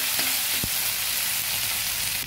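Banana stem curry with ginger paste frying in a pan while being stirred, a constant close sizzle broken by a couple of soft knocks of the spoon.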